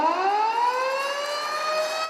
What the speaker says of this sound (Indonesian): Peresmian RSUD Muhammad Thohir ditandai dengan penandatanganan prasasti yang kemudian dilanjutkan dengan penekanan tombol sirine oleh Presiden